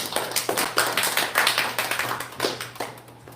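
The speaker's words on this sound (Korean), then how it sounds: "우리 장로님 우리 환영의 박수 하시죠" A church congregation gives a short burst of welcoming applause during a worship service, a few loose, uneven claps over a low steady hum that trail off near the end.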